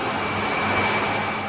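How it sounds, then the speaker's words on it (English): Continuous, loud rumbling drone of a large ship's diesel engine running at a steady pace, dense and unchanging throughout, with no speech over it. "Given good care, the diesel engine provides maximum effect on minimum oil consumption."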